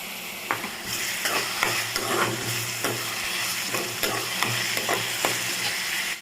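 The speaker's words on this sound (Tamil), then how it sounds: "இப்போ நம்ம பச்சை மிளகாய் போட்டு நல்லா வதக்கி எடுத்துக்கலாம்" Onions and green chillies fry with a steady sizzle in a pan, with repeated stirring scrapes and clicks of a utensil, close and continuous, no talking.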